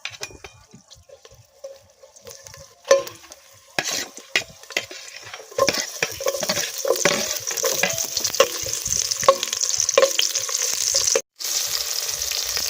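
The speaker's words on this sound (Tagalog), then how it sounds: "Magigisa po ako ng bawang, sibuyas para dun sa aming ulam na isda na may munggo" Garlic and onion sautéed in a pan, starting with scattered utensil clinks and stirring, then a steady loud sizzle with a spatula scraping and stirring throughout.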